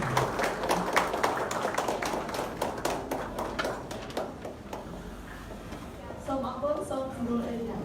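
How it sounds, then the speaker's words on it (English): An audience at a formal academic event in Cambodia rises and applauds, a dense clatter of many hands that thins out over several seconds, followed by a voice speaking near the end. "please stand up and give round of applause"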